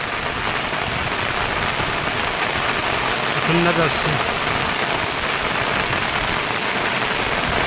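Sudden heavy downpour in a village below the Sahyadri hills during Diwali, with wind: a dense, loud, unbroken hiss of rain on surfaces, with a brief voice speaking near the middle.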